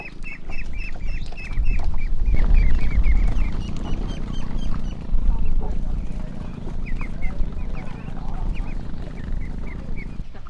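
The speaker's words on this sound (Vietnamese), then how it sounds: "Vịt gà thả lội bốn phía" Free-roaming ducks and chickens on a flooded farm set up a chorus of quacks and clucks over a low outdoor rumble, the calls near and repeated, with a voice talking over part of it.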